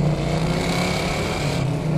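A 1970 Dodge Challenger with a 340 V8 pulls hard under steady acceleration, a loud, continuous low engine drone that holds for two seconds with no talk over it.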